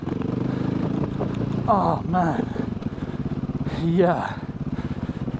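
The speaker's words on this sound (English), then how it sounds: "this dirt and sludge is just easy work with the right bike" A KTM EXC 450 dirt bike engine drones steadily and close up while it churns through dirt and sludge, with brief spoken exclamations over the motor.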